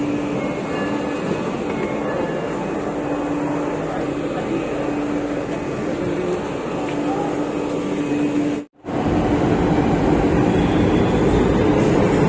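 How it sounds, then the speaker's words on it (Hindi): Inside a moving Gurgaon-bound metro train, a steady rumble and hum of the carriage runs on, cut by one brief dropout, with no voices heard. "गुड़गांव के लिए हम बिल्कुल ट्रेन में पहुँच चुके हैं"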